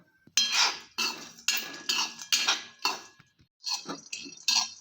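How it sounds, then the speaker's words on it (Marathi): Sunflower seeds, sesame and almonds dry roasted in a pan without ghee, heard as a rapid series of distinct scraping and rattling strokes, close and crisp with short pauses and no voices. "सूर्यफुलाचे बी तीळ बदाम भाजून घ्यायचं आहे वाळलंच त्याच्यात तूप नाही टाकायचं"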